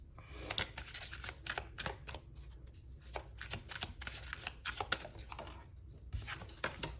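Oracle cards being shuffled by hand in a quiet room, a steady run of crisp riffling and sliding card clatter in irregular bursts, close and moderately loud with no talking.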